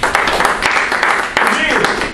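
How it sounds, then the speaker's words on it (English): A live audience applauds during a talk on communication and connecting with people, many hands clapping in a dense, steady wash that stays loud for the whole stretch, with speech mixed in. "Give a round of applause."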